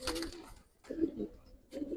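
Old-generation gribaz pigeons cooing close by, a few soft throaty coos in short phrases with pauses between, a faint voice briefly underneath.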